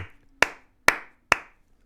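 Three lone, sharp hand claps from a single person ring out at a slow, even pace in an otherwise quiet room, each snapping crisply and fading quickly, with nobody else joining in.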